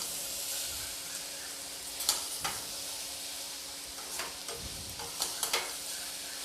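Eggplant and peas sizzling in a pan as they are fried for about a minute for a bharta, with a steady crackling hiss and a few sharper stirring clinks and scrapes.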